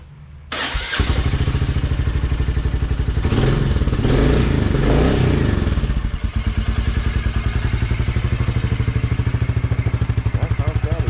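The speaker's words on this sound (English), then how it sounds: "We can now start up the engine and see how she's liking that with all new oil." A Royal Enfield Classic 350 engine with fresh oil and a new filter starts up after a short quiet moment, revs briefly, then settles into a steady, close, rhythmic thumping idle.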